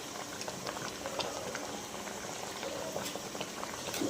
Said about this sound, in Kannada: ಈ ಕಡೆ ಫ್ರೆಂಡ್ಸ್ ಅನ್ನನೂ ಬೇಯ್ತಾ ಐತೆ